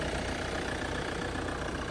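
A Hyundai Santa Fe engine idling, a steady low mechanical hum with a faint even ticking, close and constant, with no voices over it.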